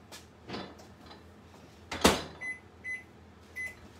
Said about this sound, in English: you might not have to put this in the microwave for another 25 seconds, but I am because I want it to cook